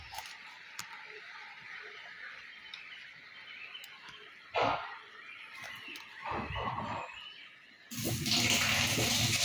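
Water pumped by an Einhell 18V submersible pump, a steady trickling flow that builds into louder splashing and gushing bursts, ending in a strong continuous rush, close by.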